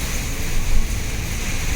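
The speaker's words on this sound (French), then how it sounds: "Et il y a un vent à décorner les bœufs." Strong squall wind roars and buffets the microphone in steady, gusting waves, with a deep low rumble and a broad hiss that never lets up.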